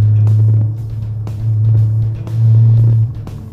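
A deep engine of a lowered car revving in three swelling pulses, a heavy low rumble rising and falling up close, with faint clicks between.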